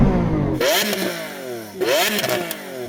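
A Lamborghini Aventador SV engine revs hard twice, each burst rising sharply in pitch then falling back, loud and close with a brief idle between.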